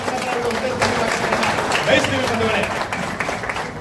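An audience claps together at a public programme, a steady patter of applause running beneath a speaker's amplified voice.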